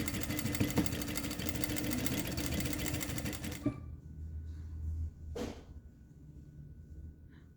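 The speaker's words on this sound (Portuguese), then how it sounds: "Ergo o pezinho e vou costurando" A sewing machine stitching a dress runs loud and fast with a dense rattle for several seconds, then stops, leaving a low hum and a single brief knock.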